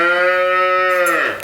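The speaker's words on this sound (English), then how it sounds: "So we went and bought a few Holsteins." A Holstein dairy cow gives one long, low, loud moo close by, holding steady before trailing off at the end.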